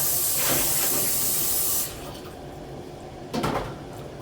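Lid set over a large cooking pot of potato stew with added water, a loud steady hiss of steam cutting off abruptly, followed by a brief metallic clatter and rustle a moment later, close up.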